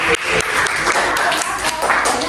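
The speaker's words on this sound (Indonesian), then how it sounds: "Tepuk tangan dulu untuk teman-teman ya." High school students in a classroom clap for their classmates, a short burst of continuous group applause with uneven, overlapping hand claps.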